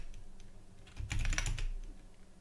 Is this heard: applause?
no